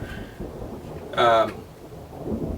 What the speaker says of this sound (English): That's a lot of thunder.